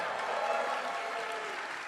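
Audience at a Death Stranding 2 gameplay premiere presentation applauding and cheering, a steady wash of clapping from a crowd lasting the whole moment.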